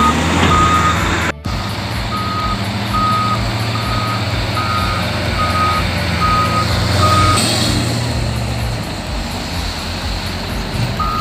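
A loaded Mercedes truck with a high-roof cab, carrying fine sand at a mining site, reverses with a steady, evenly spaced series of loud beeps over a continuous low engine rumble, with no talking.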